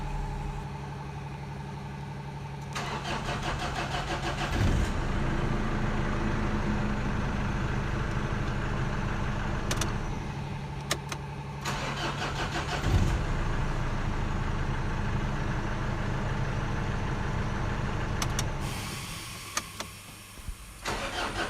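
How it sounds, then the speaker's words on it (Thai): A Mazda BT-50 or Ford Ranger pickup's engine idles steadily for a long stretch, a low continuous rumble with occasional clicks and brief revs, nearby and without speech. "เดี๋ยวเราจะติดเครื่องยนต์ทิ้งเอาไว้เลยนะครับจนร้อนจัดๆเลยนะครับ"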